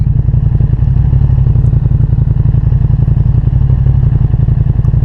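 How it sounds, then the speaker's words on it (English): A Ducati Streetfighter V2 motorcycle engine idles after run-in, a loud steady low-pitched thrumming pulse with a fast even rhythm, close to the bike. "it seems lovely, just an idle, this bike"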